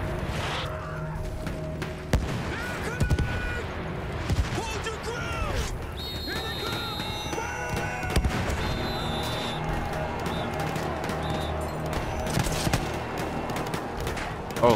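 Video game gunfire during a firefight: scattered sharp shots and bursts crack repeatedly over a busy battle soundscape with tonal effects and mechanical clatter, steady and fairly loud throughout.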